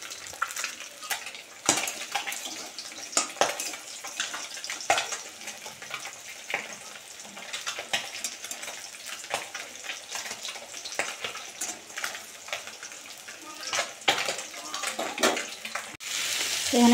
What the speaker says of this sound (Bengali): আর এদিকে মাছ ভাজা চাপিয়ে দিয়েছি।